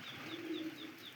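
Pigeons cooing softly at a loft in Siyazan, a low murmuring coo with faint chirps over steady background noise.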